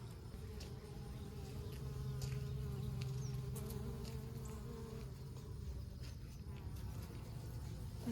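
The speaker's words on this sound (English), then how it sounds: "That's probably some of Wayne's honeybees right there." Honeybees and bumblebees hum around pea plants in a garden, a continuous low, close buzzing that stays steady throughout, with faint outdoor background.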